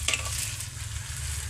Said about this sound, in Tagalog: naggisa sa bahaw aron magic na di na kinahanglan sudanan